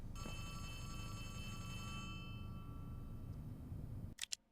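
Telephone in Poppy Playtime Chapter 3 ringing with a steady, bright electronic bell tone over a low rumbling game ambience, fading out before a couple of short sharp clicks at the end.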